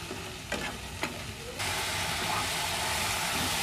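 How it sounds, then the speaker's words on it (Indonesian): Spice paste sautés in a pan until wilted, for a spicy Muscovy duck stew: a couple of stirring scrapes over a soft sizzle, then a loud, steady frying hiss that fills the rest. "Tumis bumbu sampai layu ya Bunda"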